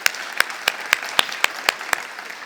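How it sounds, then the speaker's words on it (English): Audience applause at an awards event, heard as a rhythmic run of evenly spaced sharp claps, fairly close and moderately loud, repeating steadily across the short stretch. "A warm round of applause,"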